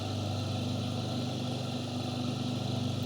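A homemade sanding machine runs with 120-grit paper, smoothing the corner of an oak board: a steady motor hum with a faint rhythmic pulse, close and constant.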